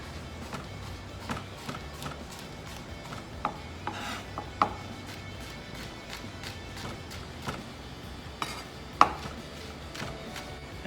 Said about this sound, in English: And then we're going to chop everything up.